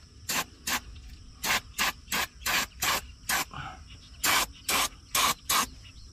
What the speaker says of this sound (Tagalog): So mag-spray tayo ng brake cleaner.